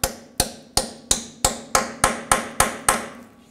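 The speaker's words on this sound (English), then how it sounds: "Take a hammer," A hammer taps a rusty wheel bearing part on a 2000-06 GMC Yukon rear axle, striking nine evenly spaced sharp metallic blows, each with a short ringing decay, close and loud with no talking.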